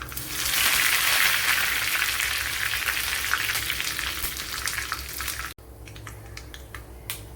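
Curry leaves hit hot oil in a pan while cooking a Kerala sadya-style koottu curry, setting off a loud, dense, steady sizzle that suddenly drops to a quieter crackle with scattered pops.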